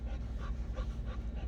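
A dog pants rapidly inside a hot truck cab, close and steady, with rhythmic breaths over a constant low engine-like hum.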